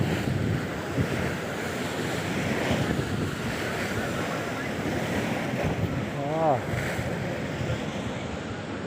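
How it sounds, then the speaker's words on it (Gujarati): Sea waves break continuously at Gomti ghat in Dwarka, a loud rolling surf mixed with heavy wind buffeting the microphone, with a faint voice briefly rising over the roar. "જોવો તમે દરિયો ધબ ધબાટી બોલાવે મોજા"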